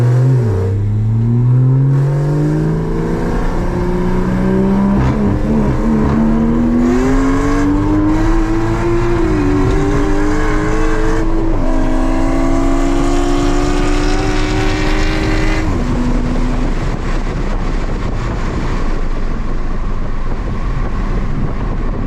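On an abandoned runway, cars launch side by side in a roll race: loud engine roar climbing through several gear changes, with rising pitch sweeps and breaks between shifts, fading toward the end.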